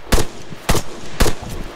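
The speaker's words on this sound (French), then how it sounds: "Oh entend des coups de feu" Three sharp gunshots crack out at an even pace, each a loud, punchy burst with a short tail, from the sound effects of Arma 3.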